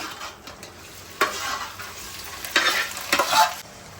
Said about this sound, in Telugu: ఫస్ట్ అయితే మూలికలు వేసి కొంచెం ఫ్రై చేశారు తర్వాత ఈ కీమా కూడా వేసేస్తున్నారు